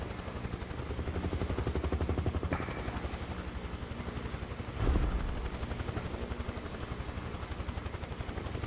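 In a flight simulator video game, a helicopter keeps up a steady, rapid rotor chop with a constant engine whine, loud and continuous, with a brief thump near the middle.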